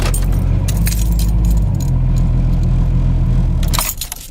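A vehicle's engine runs with a loud, steady low rumble as it is parked at a rural property, mixed with a jangling rattle, then cuts out abruptly near the end.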